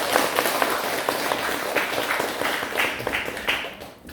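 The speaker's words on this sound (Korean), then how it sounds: "뜨거운 박수를 부탁드리겠습니다" Applause from a temple congregation at a Buddhist dharma talk, a moderate wash of many hands clapping that holds steady and tapers off near the end, heard from some distance.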